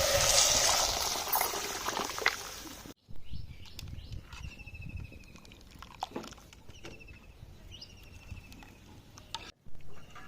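Tamarind-leaf dal with crushed garlic and turmeric boils in a pot: a loud rushing bubble at first, then softer close simmering with scattered pops and gurgles, no talk.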